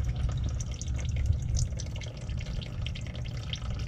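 Warm, thin used engine oil from an old engine pours out during an oil change, a soft liquid stream with trickling and dripping, quiet and close.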